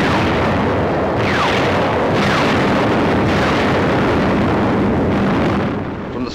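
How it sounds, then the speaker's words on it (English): World War II aerial bombardment outside Tunis, heard as a continuous loud roar of blasts and rumbling detonations, with several sharp thumps standing out at roughly one-second intervals through wind-like noise. "From the skies, a bombardment to which we had no adequate answer."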